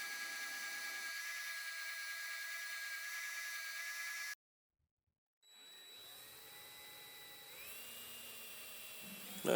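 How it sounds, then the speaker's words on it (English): A drill bores holes into the ends of handmade wooden spoons, a steady high whine that cuts off into silence, then resumes quieter with the motor pitch shifting as it spins up again. "I forgot to drill holes in the ends of the spoons"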